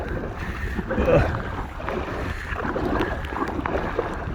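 Wind gusting over choppy water on Loch Lomond, heard from an Aqua Marina Steam 412 inflatable kayak, a steady broadband rush with low buffeting and small water slaps close by.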